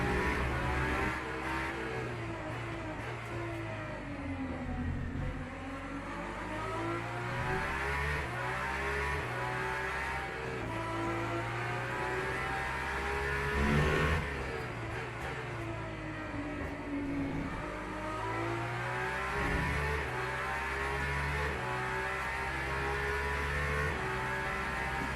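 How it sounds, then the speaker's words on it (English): A McLaren race car's engine in Le Mans Ultimate at Interlagos, revving hard and repeatedly rising and dropping in pitch through aggressive downshifts, loud and steady throughout with no talk. "That McLaren sounded nice and aggressive on those downshifts."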